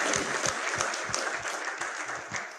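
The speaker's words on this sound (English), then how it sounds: "we should certainly give a round of applause to sir" Audience at a formal question-and-answer session applauding an official, a fairly soft but steady round of clapping with a few distinct louder claps in a rhythmic pulse.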